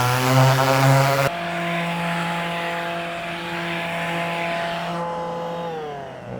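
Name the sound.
power sanding boat bulkhead panels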